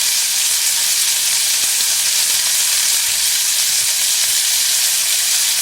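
Pollock fries in a pan after water is poured in, giving a loud, steady, hissing sizzle that holds evenly throughout with no talk over it.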